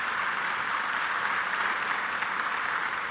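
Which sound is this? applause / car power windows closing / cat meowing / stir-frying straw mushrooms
applause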